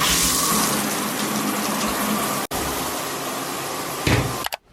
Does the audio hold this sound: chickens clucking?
no